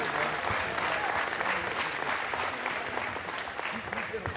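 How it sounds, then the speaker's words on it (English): Audience applause rings out at a college basketball game, with dense, sustained clapping filling the gym for several seconds at steady strength while some voices mix in. "if we could get a round of applause for Jordan and Savannah Polinski"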